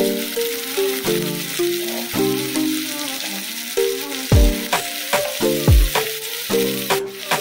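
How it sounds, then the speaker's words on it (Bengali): Vegetables fry in hot oil in a kadai for chowmein, giving a loud, close sizzle. Clanking ladle strokes and a few heavy knocks come through as the pieces are tossed and stirred, and no voices are heard. "তেল গরম হয়ে গেছে, তো আমি এই সবজিগুলো কড়াইয়ে দিয়ে দেবো"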